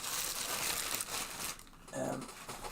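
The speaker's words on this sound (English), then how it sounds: "Pop those back into their very, very ancient plastic bag." Old comics slide back into an ancient plastic bag with bursts of crinkling and rustling plastic, a short pause in the middle, then more crinkling. A voice speaks over part of it.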